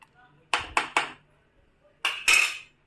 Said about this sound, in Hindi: इसको मैं स्टिर करूँगी